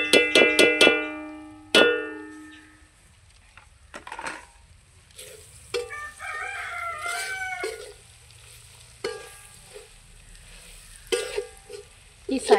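Spiced chicken roast with chicken masala, coriander, chili and pepper powders and asafoetida is stirred in a pan, giving sharp metallic scrapes and taps early, then soft sizzling with intermittent clinks.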